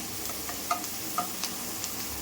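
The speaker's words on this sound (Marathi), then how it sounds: "कांदा छानपैकी असं थोडंसं ब्राऊन करून जरा भाजून घेऊ" Chopped onion sizzles steadily while being browned in a pan for a special dal fry, with a few soft clicks of a spoon stirring against the pan over the constant frying hiss.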